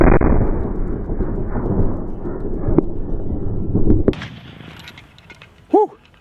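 A single loud blast from a Sharps 1859 carbine, a percussion-cap rifle fired downrange, with a sharp crack and rolling boom that fades, followed by a brief voice exclaiming near the end.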